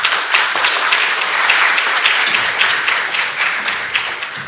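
Warm audience applause in a hall at an international cancer symposium, a thick, continuous crowd clapping that stays loud and steady throughout before tapering slightly at the end.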